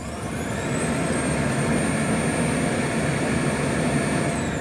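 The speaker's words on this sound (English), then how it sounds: "We're gonna see this cyclone fill up with everything that it has picked up in today's vacuum." A Eureka E20 Plus robot vacuum empties its debris into a cyclone bin, producing a loud, steady whooshing roar with a faint high whine throughout, sustained without breaks and no talking.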